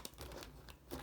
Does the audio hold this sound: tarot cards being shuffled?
yes